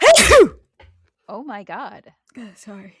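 A single loud, sudden sneeze bursts out at the start, followed by a person speaking a few words.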